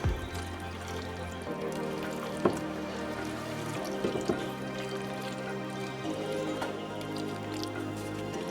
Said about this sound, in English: And so now we're going to pour in our mixture.